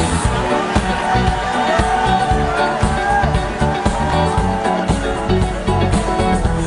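An audience at the WorldSkills 2023 opening ceremony in Lyon claps and cheers, a loud continuous wash of crowd noise with whoops, mixed with music and a voice over it.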